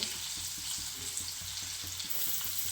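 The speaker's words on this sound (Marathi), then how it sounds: "आता हे कमी गॅसवरती ना आपल्याला एक तीन ते चार सेकंद असेच परतून घ्यायचे" Stuffed ridge gourds fry in a pan over low heat, giving a steady close hiss of sizzling oil with soft, regular stirring thumps underneath.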